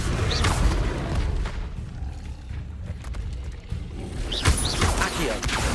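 Incendio fire spell cast in Hogwarts Legacy, a loud roaring whoosh of flame with booming low rumble, easing briefly mid-way before a second burst flares up.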